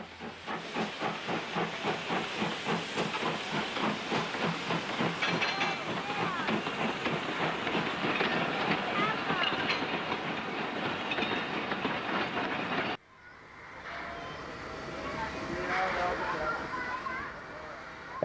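Preserved New South Wales steam locomotive 5910 working the Thirlmere Loop Line, with steady rhythmic exhaust chuffs and hissing steam close by for about thirteen seconds, then a quieter, more distant rumble of the train.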